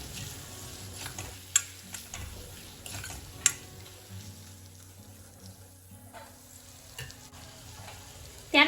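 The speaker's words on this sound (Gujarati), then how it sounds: "આ બધી વસ્તુને એકદમ સરસ રીતે મિક્સ કરી લઈશું" Turmeric and salt being stirred into a frying mixture for dal, a soft sizzle with scraping stirs and a few sharp clicks of a spoon against the pan.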